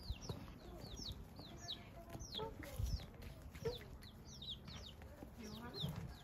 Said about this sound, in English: that's baby chickens.